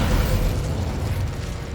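A Descendo spell impact in Hogwarts Legacy, a loud heavy burst that booms and rumbles without letup, with no speech over it.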